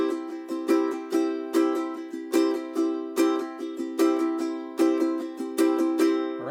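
Ukulele strummed in a steady rhythmic pattern with stressed accents on beats 2 and 4, bright repeated chord strokes ringing close and clear with no talk.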